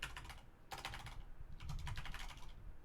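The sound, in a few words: typing on a loud computer keyboard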